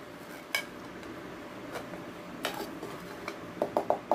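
A chocolate brownie being shifted onto a plate, with sparse scrapes and light clinks of a utensil against a pan, then a quick burst of small metallic taps at the end, close and quiet.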